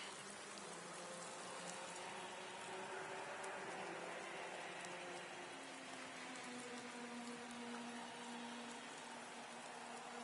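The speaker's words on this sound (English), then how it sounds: "We're expecting around 15 minutes of rain before it will start to dry out." Rain falls steadily during a race in the video game Project Cars 2, a soft continuous hiss with faint engine tones drifting underneath, quiet and unbroken from start to finish.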